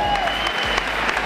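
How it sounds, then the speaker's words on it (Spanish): Crowd applause at a dirt rally prize-giving for the second-place Mitsubishi crew, brief and steady, with low rumbling from the outdoor setting and some voices mixed in. "Aplauso ahora para Willy Villanueva."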